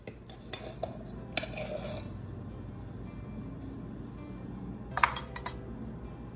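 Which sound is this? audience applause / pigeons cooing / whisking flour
whisking flour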